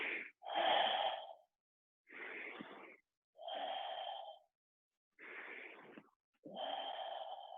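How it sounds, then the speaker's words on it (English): Forceful exhalations in a breathing exercise, six sharp bursts of breath shooting out with short silent gaps between, close and clear, roughly one every second or so, without speech. "Now we're going to breathe in and let the breath shoot out."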